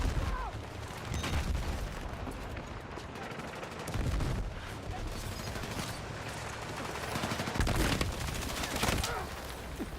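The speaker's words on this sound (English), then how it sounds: "Damn, my hipfire just didn't work" Rapid hip-fire gunfire from the shooter game Battlefield 6, a dense fusillade of automatic shots and booms running throughout, with louder bursts near the start, middle and end.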